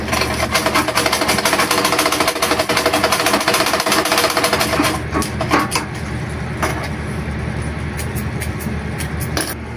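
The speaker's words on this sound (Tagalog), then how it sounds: "Subukan natin itahi naman sa babinki sa ating niluluwagan" A sewing machine stitches a loosened seam with a fast, steady mechanical chatter that runs loud and continuous, then eases slightly near the end with a few clicks, with no speech over it.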